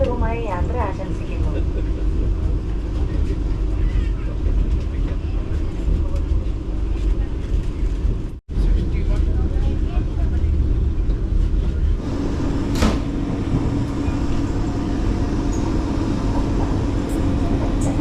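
Steady low rumble inside a moving Vande Bharat express train at night in Kerala, with continuous rolling noise, a brief dropout partway through and a slight shift in tone later on.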